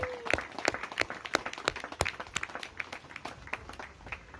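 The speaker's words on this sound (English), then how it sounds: "Yes, give them a round of applause." An audience at an outdoor ribbon-cutting for a short-term family housing site gives a round of scattered applause, a modest crowd clapping at a moderate distance for a few seconds.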